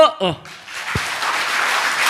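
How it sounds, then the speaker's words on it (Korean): An audience of soldiers at a Buddhist monk's talk breaks into steady applause after a short spoken prompt, a dense wash of clapping that fills the rest of the moment at moderate volume. "자, 박수"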